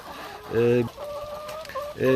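Free-range laying hens cluck and chatter nearby while feeding in the coop, in short, repeated bursts, with steady coop background noise between calls.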